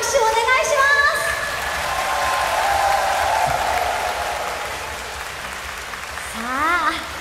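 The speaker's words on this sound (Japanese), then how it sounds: "その人たちもぜひ拍手をお願いします。" Audience applause fills a live concert hall for the stage crew, steady and moderately loud, mixed with a speaker's voice and swelling again toward the end.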